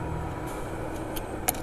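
Cars moving along a windy, snow-swept Siberian road, a steady low rumble of traffic holding throughout with a brief sharper rattle near the end.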